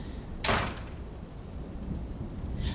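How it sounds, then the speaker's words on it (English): A door slams shut once with a sharp, loud thud during a thunderstorm at night, followed by faint rattles over steady rain and wind. "I hear the door slam and I flinch"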